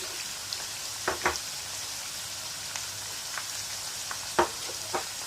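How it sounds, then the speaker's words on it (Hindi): Boiled mutton frying in a pan with spices, a soft steady sizzle with scattered small pops and crackles, fairly quiet throughout. "ये देखें हमारा मीट जो है ये भुन रहा है"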